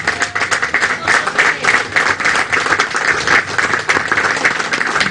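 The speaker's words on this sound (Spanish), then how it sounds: "Por favor, un fuerte aplauso." Sustained, loud applause from a crowd at a government inauguration event in Catacamas, Olancho, with steady dense clapping continuing throughout and no talk over it.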